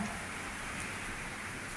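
Steady rain pours during a storm, a dense even hiss that stays loud and continuous throughout with no voices or distinct thunder claps.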